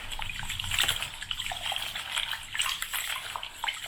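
Rice being washed by hand in a basin of water during village cooking in Kenya, with steady sloshing and trickling, close and continuous with small splashy bursts throughout.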